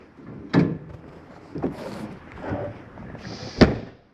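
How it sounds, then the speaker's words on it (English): Entry steps of a 2015 Tracer 2750RBS travel trailer being folded up, giving several sharp metallic clunks and rattles spaced about a second apart, close by with no talking. "Just going to fold these steps up."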